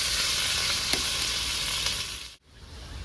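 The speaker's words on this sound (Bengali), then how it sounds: "ধুয়ে রাখা আলু আমি দিয়ে দেবো।" Washed potatoes are added to hot oil with dried red chillies and whole cumin, setting off a loud, dense sizzle close by that holds steady, dips abruptly for a moment, then resumes, with no talk.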